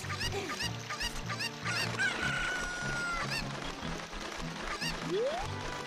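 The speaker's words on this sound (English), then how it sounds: "Flying chickens." Cuccos, the chickens of the video game Zelda Ocarina of Time, cluck and squawk repeatedly while flying, with a rooster-like crow, over game music and effects.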